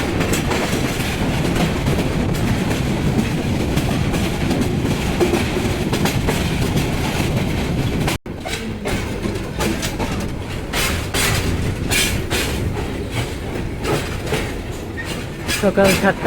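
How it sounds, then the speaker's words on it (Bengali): The Parabat intercity express train rumbles past loudly and close on a curve, wheels clattering rhythmically over the rails in a continuous roar that shifts midway as the carriages pass. "বিশাল কার্ভ নিয়ে ছুটে চলেছে আন্তনগর পারাবত এক্সপ্রেস"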